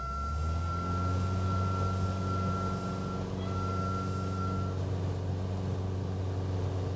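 Steady aircraft engine drone in Microsoft Flight Simulator, a continuous loud hum with strong tonal harmonics and a high whine, holding level throughout with no speech.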